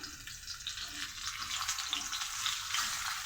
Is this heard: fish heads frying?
yes